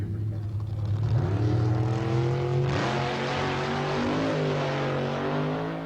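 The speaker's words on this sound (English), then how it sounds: "The supercharged big block sounding strong." A supercharged big-block front-engine dragster roars steadily down the drag strip at a 1989 ANDRA Winternationals meet, its loud engine note climbing in pitch, briefly dipping as the throttle eases, then rising again.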